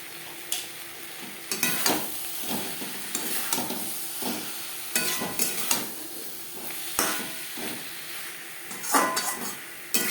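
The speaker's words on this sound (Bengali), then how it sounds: "মশলার সাথে পটল বেশ ভালো করে কষিয়ে নেওয়া হয়ে গেছে।" Pointed gourd being sautéed with roasted cumin, coriander, bay leaf and dried chilli spice in a pan: repeated scraping stirs and clinks of a spoon over a steady, soft sizzle, with no talking.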